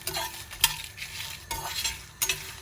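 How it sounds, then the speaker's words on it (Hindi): Curry leaves and green chillies fry in hot oil in a pan for sambar, a steady sizzle broken by a few sharp scraping stirs of a spoon against the metal, close and loud with no voices. "अब मिर्ची डालेंगे। जैसे ही मिर्ची पे हल्का सा कलर आ गया अपना काम बन गया। करी लीव्स डालते हैं और इसको अच्छे"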